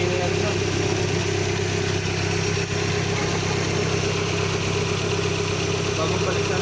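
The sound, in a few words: overhauled engine idling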